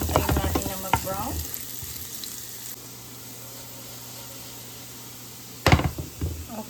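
Food sizzles steadily in a very hot pan while it browns, with utensil clatter and stirring at the start and again near the end, for a broccoli and mushroom dish.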